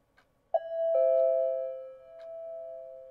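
A bell in the horror video game Mirror Layers rings with a clear ding-dong tone, two struck notes that ring on and slowly fade, fairly loud against near silence.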